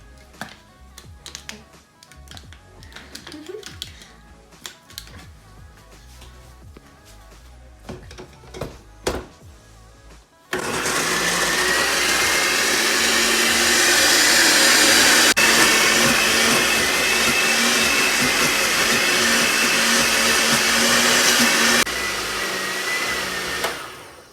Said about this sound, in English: We'll take it over to the blender.